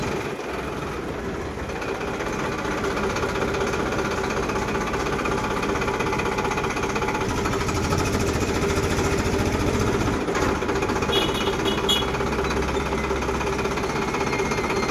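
A diesel tractor engine runs steadily at close range, a loud, continuous rattling drone that holds an even pace throughout with no voices over it.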